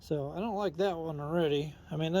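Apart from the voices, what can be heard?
No distinct noise like a dog, phone or traffic.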